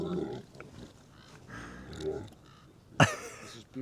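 A boar on a grass-fed pig farm grunts in low, rough bursts, then gives one loud, throaty snort near the end, close by amid other farm sounds.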